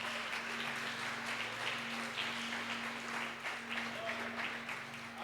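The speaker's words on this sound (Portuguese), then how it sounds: "Aplauda o nome do Senhor." A church congregation claps during a service, a steady faint patter of applause heard at a distance with voices mixed underneath.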